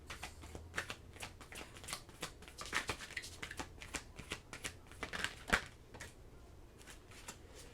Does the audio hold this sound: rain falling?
no